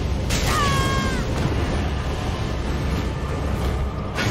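A cat in the Elden Ring game gives a single drawn-out, wavering meow near the start, over a constant rumbling background, then the noise carries on alone.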